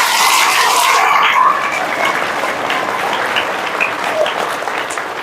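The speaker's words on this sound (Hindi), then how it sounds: "है तो अपने आप के लिए जोर से ताली बजाओ।" Children at a religious retreat clap loudly together, a dense burst of applause that is strongest at first and then tapers to a steadier patter.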